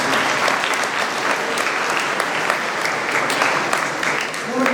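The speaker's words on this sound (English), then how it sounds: "I request that all of you give a great round of applause." A large audience fills a hall with sustained, dense applause that holds at a steady loud level throughout, with no voices rising above the clapping.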